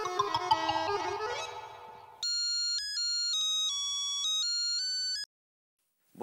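A telephone ringtone sounds alone on an outgoing call, a steady repeating electronic ring pattern that cuts in after a stretch of music and stops abruptly.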